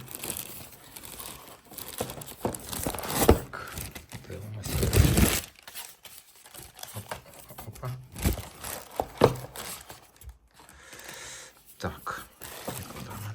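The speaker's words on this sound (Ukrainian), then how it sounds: "запакований отаким чином він іде пакетику. Виймаємо." An SKG F1 PRO percussion massager is pulled from its plastic bag, giving bursts of crinkling and rustling plastic, close and uneven, while a person talks at intervals.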